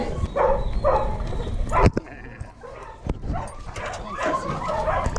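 Excited greyhounds bark, yip and whimper before a race in a lively, uneven run of calls, with some close and loud and others further off. People talk now and then underneath.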